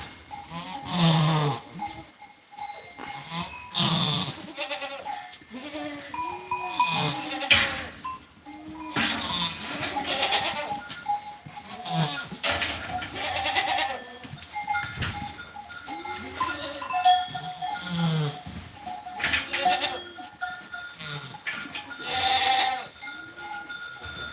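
Goats bleating on a farm, native-breed animals including a first-time mother after her first kid, with repeated wavering bleats near and far, some overlapping, plus a cowbell clanking and other barnyard noise.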